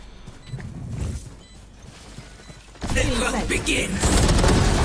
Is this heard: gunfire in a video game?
yes